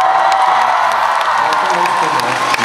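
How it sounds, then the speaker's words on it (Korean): Concert audience at a gala concert cheering and shouting loudly, a dense roar of voices with clapping mixed in, sustained and close throughout. "여러분들이 함성 지를 때 아 스파르타가 이런 곳인가?"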